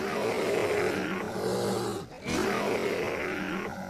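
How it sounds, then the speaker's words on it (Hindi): A cartoon animal lets out loud, rough, sustained roars, with one brief pause midway before the roaring resumes at full strength. "दहाड़ने की आवाज शुरू हो गई।"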